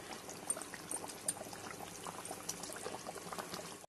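Katla fish curry in yogurt gravy bubbles in a pot, with a faint, continuous, close simmering and gurgling and scattered small pops throughout.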